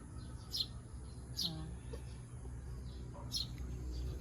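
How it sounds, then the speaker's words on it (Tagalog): Birds chirp in the morning in short, high bursts at irregular intervals, fairly close, over a quiet outdoor hum. "ganitong umaga, ang maririnig nyo po ay ang huni ng ibon"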